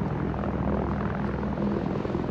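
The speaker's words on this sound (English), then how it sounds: "Sounds like your ship sounds like a helicopter coming up behind me." The Banu Defender spaceship's engine in Star Citizen gives a steady, throbbing rotor-like drone, like a helicopter, humming continuously at moderate distance without a break.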